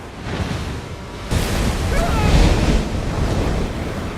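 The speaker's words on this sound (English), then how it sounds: "a violent storm hits and destroys their boat" Stormy sea with crashing waves and gusting wind, the surf surging louder partway through and roaring steadily close to the microphone.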